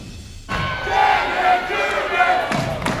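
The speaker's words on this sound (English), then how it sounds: "Crowd getting into it here in this rivalry matchup between New Braunfels and Canyon" Crowd at a high school basketball rivalry game between New Braunfels and Canyon, a loud gym full of cheering and shouting voices that surges and stays sustained, with a bouncing ball thumping beneath.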